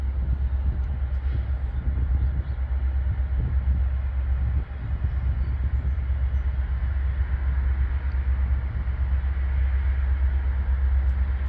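A Norfolk Southern westbound freight train rolls past with its locomotive, a steady loud low rumble and roar holding constant from start to finish.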